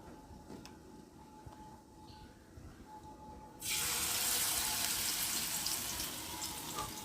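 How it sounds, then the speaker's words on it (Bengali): Pumpkin flower fritters in gram flour batter go into hot oil on a tawa. A quiet kitchen background gives way halfway through to a sudden loud, broad sizzle that stays strong to the end. "এখন এই যে কুমড়ো ফুলের বড়া দিয়ে, বেসন দিয়ে বড়া ভাজবো"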